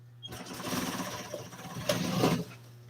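A sewing machine back-tacking stitches while upholstering a Studebaker truck seat, a steady close motor whir with rhythmic stitching that runs for a couple of seconds and then stops.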